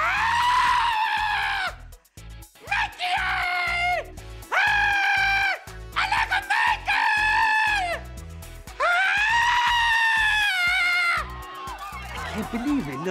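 A voice imitates screaming pop fans with long, high shrieking bursts, four or five loud wails separated by short gaps, close and filling the whole stretch.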